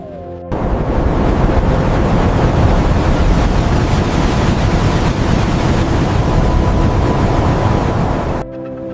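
Ocean waves churning at the edge of Antarctic ice, a continuous loud rushing roar of surf and wind with no pauses, ending abruptly.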